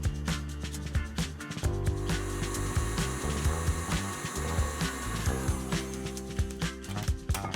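French meringue is beaten with an electric mixer, producing a continuous whirring drone with rhythmic knocks and scraping against the bowl, close and steady for several seconds.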